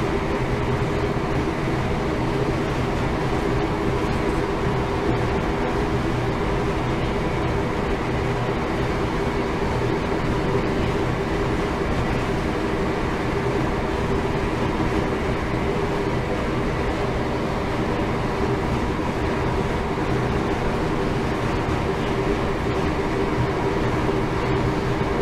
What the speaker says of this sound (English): at the following signal I'm going to shut off the power and allow the train to coast